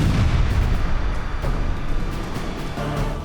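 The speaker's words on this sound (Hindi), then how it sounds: "ताबड़तोड़ गोलाबारी शुरू हुई" Heavy artillery shelling in war footage from the Russia-Ukraine front, where a Russian T-90M tank was in action: a dense, continuous roar of booms and blasts that stays loud throughout, with no clear gaps between impacts.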